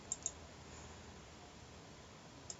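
A few quiet computer mouse clicks, two close together at the start and one more near the end, over faint room hiss while running a Processing sketch.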